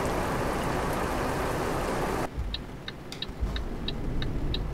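Heavy rain roars over a truck in Euro Truck Simulator 2, a dense loud wash that suddenly cuts to a quieter engine hum with scattered sharp ticks of raindrops and wiper-like clicks.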